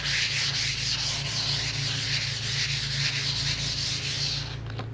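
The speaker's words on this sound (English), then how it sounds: "we are going to buff it with our 400 grit sandpaper extremely lightly" Sandpaper of 400 grit rubbed lightly over stained wood along the grain, a steady close rasping scrape in quick back-and-forth strokes that stops just before the end.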